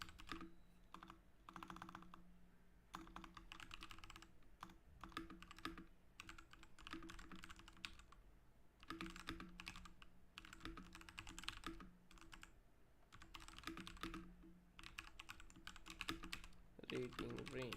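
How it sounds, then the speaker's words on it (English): Typing on a computer keyboard during a coding session, with quick irregular clusters of soft clicks and short pauses over nearly eighteen seconds, faint and close. "I'll just quickly type it over here for the guys who will join later"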